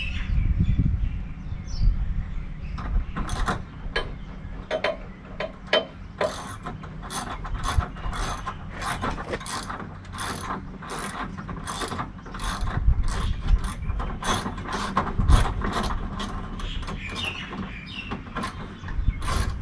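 A hand tool ratchets steadily while tightening car headlight fittings during an H4 LED headlight upgrade, giving a long series of close, evenly spaced clicks over a low background hum.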